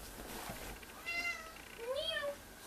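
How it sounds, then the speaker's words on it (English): A pet cat named Emily, in a playful mood, meows twice close by indoors, each a clear rising-and-falling call with a short pause between them. "Okay, here's my kitty."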